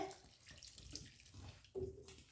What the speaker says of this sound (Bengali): অল্প অল্প করে জল দিয়ে দিয়ে